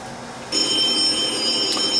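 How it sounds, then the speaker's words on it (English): A telephone starts ringing partway through, a bright electronic trill that comes in abruptly over a quiet background and carries on steadily at close range. "Oh, the phone is ringing."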